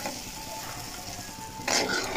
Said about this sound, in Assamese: পানীখিনি দি অলপ সময় ভুলিব লাগিব পিঁয়াজখিনি পূৰা নাইকিয়া হোৱাৰলৈকে